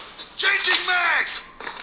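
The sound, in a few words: weapon magazine change in a shooter video game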